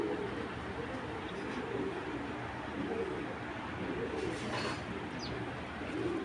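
Pigeons coo softly and repeatedly in low, rolling phrases over a steady background hum, with a faint chirp now and then.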